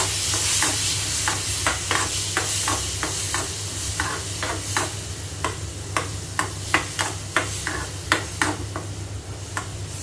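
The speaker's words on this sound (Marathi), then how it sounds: "याच्यामध्ये थोडंसं लाल तिखट घालायचं आहे आणि ही आंब्याच्या फोडी घालायच्या आहेत. परतून घेऊया." Mango pieces with red chili powder and mustard seeds sauté in a pan, a steady sizzle broken by regular, close scraping strokes of a stirring spoon.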